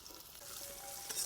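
Garlic frying in a kadhai for spicy brinjal thecha, a soft, brief hiss of hot oil, faint and close.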